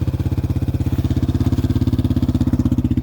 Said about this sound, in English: it takes a certain kind of crazy to ride down frozen roads in the middle of winter on a motorcycle.